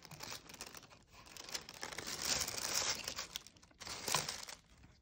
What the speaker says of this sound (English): Very pretty tissue paper.